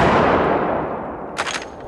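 A single loud 45-70 rifle shot firing a Hornady FTX bullet, a sharp close blast that rolls off into a fading boom, with a brief metallic clatter just after.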